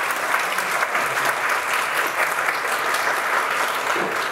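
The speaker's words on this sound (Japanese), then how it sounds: "皆様、大きな大きな拍手でお迎えください。" An audience claps steadily to welcome a professional photographer onstage at a Leica-themed talk show for a camera shop's 30th anniversary, a dense, even wash of applause filling the hall with no voices over it.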